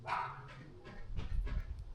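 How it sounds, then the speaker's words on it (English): A dog shut outside barks repeatedly to be let back in, several sharp barks spaced through a quiet, echoey corner, not especially close. "the dog wants in, and it's going to keep doing that all day"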